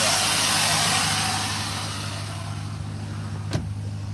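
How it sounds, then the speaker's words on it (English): Air ride suspension on an SRT Hellcat adjusts with a loud, close, steady rushing hiss that slowly eases off, then a single sharp click near the end. "I hit this button twice on the air ride."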